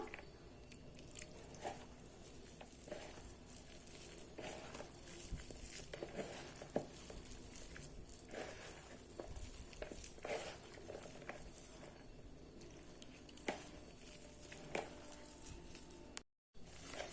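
Spinach bonda batter is mixed by hand in a bowl, giving soft, irregular squishing and patting sounds that are faint and close, with no talking.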